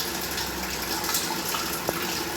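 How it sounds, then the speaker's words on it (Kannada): Water pours into an idli steamer in a steady, close, rushing stream that runs unbroken from start to finish, with no talking. "ಈಗ ಸ್ಟೀಮರ್ಗೆ ನೀರನ್ನು ಹಾಕ್ಕೊಳ್ಬೇಕು"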